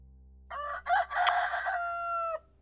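A rooster crows a single long cock-a-doodle-doo at morning in the survival video game My Last Shelter, clear and close over a quiet low hum.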